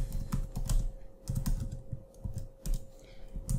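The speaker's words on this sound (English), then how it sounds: "let's type env" Steady bursts of keystrokes on a computer keyboard while commands are entered in a terminal for Android app pentesting, close and fairly quiet, with an irregular typing rhythm and short pauses between runs.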